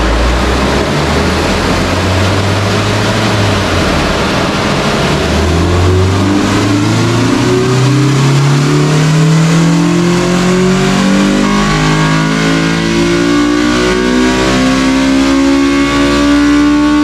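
A Honda B18C engine in an all-motor EG hatchback revs hard through a dyno pull, its loud, close wail climbing steadily in pitch for over ten seconds from a low drone to a screaming high-rpm howl.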